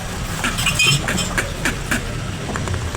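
The motor of a Hanabishi floor fan, running dry without oil, gives a steady, noisy mechanical whir and rattle with small irregular clicks. Nobody speaks.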